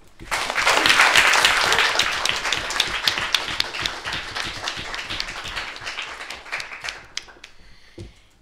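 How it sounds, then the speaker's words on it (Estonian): An audience at a student debate gives a big round of applause, loud dense clapping that swells quickly, then gradually thins out into scattered individual claps before fading. "nii et teeme neile suure aplausi."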